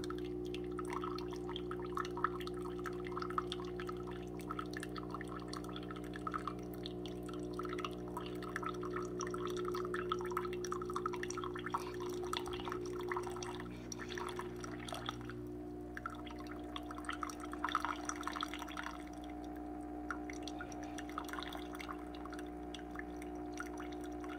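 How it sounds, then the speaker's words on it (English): An Aldi Ambiano CM-202 single-serve K-Cup coffee maker brews with a steady, quiet hum from its small water pump, joined by soft trickling and dripping of liquid throughout. "So it's not really loud when it's brewing the coffee. It just sounds like a little water pump pumping."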